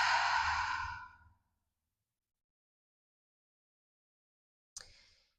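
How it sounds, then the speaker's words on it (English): A deep breath taken while holding yoga mountain pose (Tadasana) during a full-body vinyasa flow: one long, loud exhale lasting over a second, a stretch of silence, then a short, faint breath near the end. "Take a breath here."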